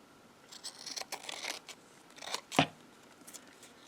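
Scissors trim excess paper while a junk journal page is made, with a series of soft close snips and paper rustles and then one sharper, louder cut.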